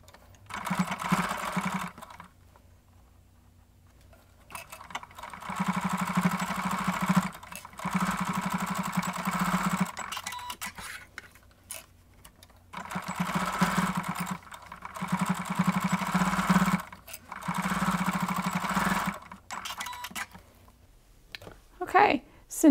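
A sewing machine stitches fabric for a small pocket tissue holder, running in several steady bursts separated by short pauses, with quiet talk between the runs.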